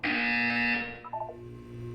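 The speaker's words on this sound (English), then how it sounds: "You will hear a buzzer." A harsh, loud buzzer sounds for about three-quarters of a second in the Portal 2 video game, followed by quieter electronic tones and a low hum.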